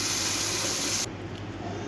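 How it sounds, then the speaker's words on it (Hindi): Water poured into a cooking pot for vegetable pulao, a loud close continuous splashing gush that drops to a lower steadier rush partway through, with no talk. "3 पाव जो है पानी डालने लगा हूँ इसमें।"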